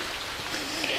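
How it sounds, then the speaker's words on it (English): Steady rain falls outdoors onto someone working on a 1982 Honda ATC200 three-wheeler, making a continuous even hiss with no breaks and no talking. "It's raining on me."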